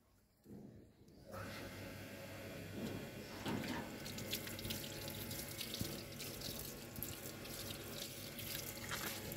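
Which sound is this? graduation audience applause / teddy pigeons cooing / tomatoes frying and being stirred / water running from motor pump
water running from motor pump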